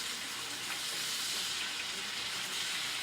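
Chicken browning in a frying pan, a steady close sizzle with fine crackling spatter that continues evenly throughout.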